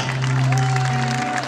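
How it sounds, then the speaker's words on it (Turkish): A crowd in Yeni Mahalle applauds at a championship celebration, a loud burst of clapping and cheering mixed with a steady sustained tone in the background. "Kocaman alkış Yeni Mahalle."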